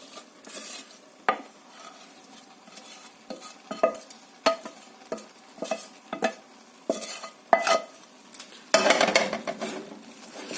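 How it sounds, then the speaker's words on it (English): Fried onions are stirred into majadra, a vegan rice and lentil dish, in a pot: a spoon scrapes and knocks in an irregular rhythm over a soft sizzle, ending in a longer scraping stir, with no talk. "You want to mix everything in nicely until this all becomes one very nice dish"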